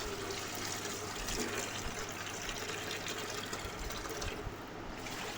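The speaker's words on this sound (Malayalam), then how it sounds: "നമ്മൾക്ക് ഒരു 2-3 പ്രാവശ്യം നന്നായിട്ട് വെള്ളം ഒഴിച്ച് കഴുകി വൃത്തിയാക്കി എടുക്കാം." Water poured over pork pieces while washing them, a steady rushing and trickling flow that runs continuously at moderate level, close and without speech.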